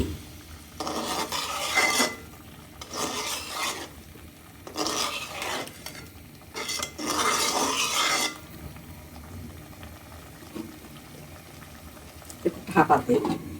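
Rui fish pieces and potatoes are sautéed in a pan, with four or five loud bursts of sizzling and stirring scrapes separated by quieter simmering, and a voice speaks briefly near the end.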